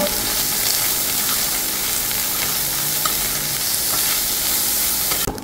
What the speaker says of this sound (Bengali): এ পর্যায়ে দিয়ে দিচ্ছি চিংড়ি শুটকি। আবারও সবগুলোকে একসঙ্গে ভালোভাবে ভেজে নেব।